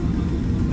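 A Boeing 777-300 airliner taxis toward the runway, its engines a steady, continuous low rumble with no voices.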